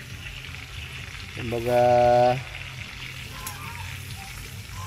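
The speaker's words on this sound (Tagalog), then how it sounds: "Kaya ito, prito na lang mga man." Food fries in a pan with a steady, soft sizzle and crackle. A voice briefly rises over it midway, and talk runs through the rest.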